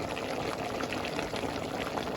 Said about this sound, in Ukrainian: Закипає, булькотить